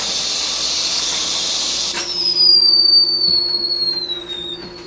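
A pressure cooker, just switched off, lets out a loud hissing rush of steam, then a sharp whistle that slowly drops in pitch, heard up close with no talk.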